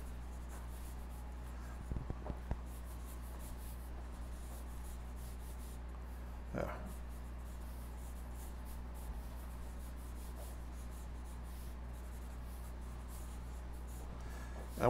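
A pencil sketching elephants on paper rubs and scratches steadily and softly up close, with a few brief sharper strokes over a constant low hum, no talk.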